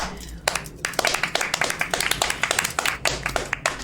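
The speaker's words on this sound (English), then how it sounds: "Why are we clapping?" A family claps in a loose, uneven rhythm, the hand claps close and distinct and slightly out of step with one another, with faint voices in the background.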